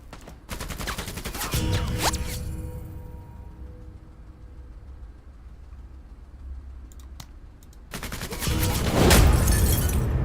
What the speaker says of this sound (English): Start screwing things up with the giant machine gun.